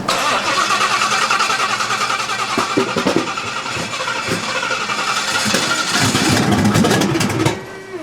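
A Ford Mustang S550 engine cranks and fires up close by, then revs hard in several loud, throaty bursts before settling, with a brief drop near the end.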